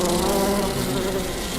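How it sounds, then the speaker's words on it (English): A bee buzzing as a sound effect in a commercial, a loud, steady droning hum that holds close and continuous throughout without any talk. "I'm a bee, and I bumbled my way into your car."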